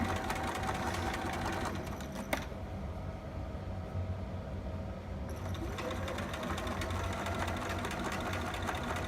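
A domestic sewing machine stitches forward and back over elastic on a garment, running in a steady continuous whir close by with a brief pause near the middle before resuming.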